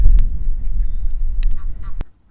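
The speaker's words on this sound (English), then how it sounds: "All I can hear is these ducks in the background" Ducks quack in the background over a rumbling, windy outdoor noise, a few short calls scattered across a couple of seconds.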